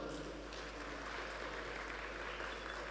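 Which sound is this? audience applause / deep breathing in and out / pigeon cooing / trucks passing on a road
audience applause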